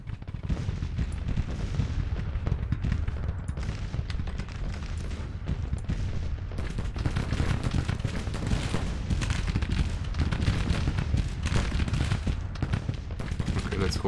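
Sustained cannon and rifle fire from a Grand Tactician Civil War battle, a dense continuous roar of booming artillery and crackling musketry with no pauses and no talk.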